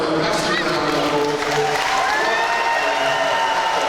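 An arena crowd applauds and cheers after a boxing contest, with a dense, steady roar of clapping throughout and a ring announcer speaking over it.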